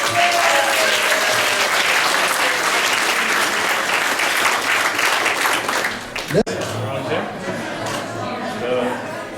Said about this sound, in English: let's have one more big round of applause for all our speakers